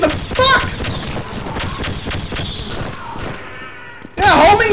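Homing missile explosions in Half-Life: a run of heavy booms and thuds thump through a noisy firefight, ending in a loud blast, with someone shouting over them.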